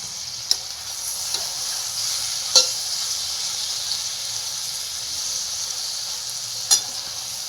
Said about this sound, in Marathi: टमॅटोला पण झाकण ठेवून परतून द्यायचे त्याच्याबरोबर